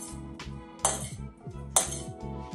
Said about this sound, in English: Give the salad a mix.